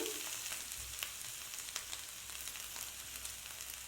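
Ginger sizzles in hot oil in a pan while a yogurt fish curry with catla is prepared, a steady, quiet hiss with faint crackles and light stirring scrapes.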